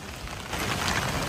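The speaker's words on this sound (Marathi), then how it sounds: "पाऊस पण चालूच आहे आणि थंड एकदम वातावरण आहे" Rain falling outdoors near Bhavali waterfall, a dense steady hiss of drops on surfaces, even and fairly loud, with no voices.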